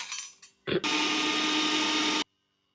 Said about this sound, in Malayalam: ആദ്യം നമുക്ക് ഈ മുളകൊന്ന് പൊടിച്ചെടുക്കണം